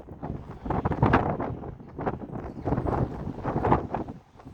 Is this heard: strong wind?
yes